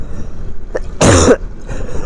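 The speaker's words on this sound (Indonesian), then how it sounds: "sumpah batuk gua udah parah ini" A single harsh cough from a motorbike rider, loud and close, stands out over a steady background rumble from the road.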